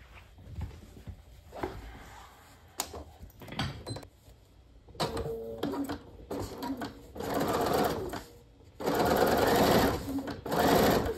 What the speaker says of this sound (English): I'm also going to baste it with a 1/4-inch seam